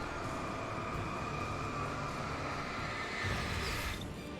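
A train in the video game Alan Wake Remastered rumbles steadily with a low hum and a faint high whine, fading slightly toward the end; no one speaks.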